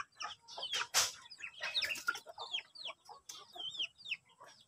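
A chicken sick with a cold and phlegm in its throat makes rapid clucks and raspy, rattling calls close by, in an uneven series of short bursts with brief pauses between.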